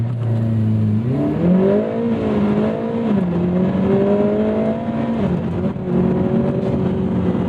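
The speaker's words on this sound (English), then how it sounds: "Let's give you launch control" A 2024 Lotus Emira Turbo with an AMG four-cylinder engine launches hard under launch control, its engine note climbing steeply through gear changes, loud and close throughout.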